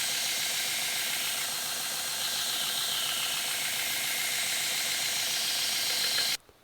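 An axe edge scrapes steadily across 600 grit abrasive in a continuous hissing rasp of even strokes, close and moderately loud, stopping abruptly at the end.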